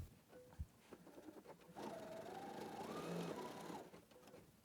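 A Viking Designer Epic 3 sewing machine stitching a quilt, a faint close whirring run of about two seconds after some quiet handling clicks.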